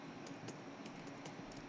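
Light, quiet clicks of keys being pressed on a computer keyboard, a few scattered taps over a low background hiss, with no voices.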